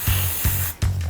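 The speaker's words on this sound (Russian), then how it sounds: "Антипригарный спрей." A can of non-stick spray is sprayed in three short, loud hissing bursts, close by, with brief gaps between them and no talking.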